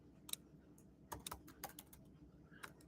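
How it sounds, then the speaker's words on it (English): Light typing on a computer keyboard gives a few soft, scattered key clicks in short irregular bursts. It is faint and close against a quiet room. "I'll type it in."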